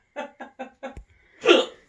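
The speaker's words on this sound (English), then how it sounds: "I have the hiccups now" A person hiccups four times in quick succession, each a short close vocal jolt, followed by a louder breathy laugh-like exhale.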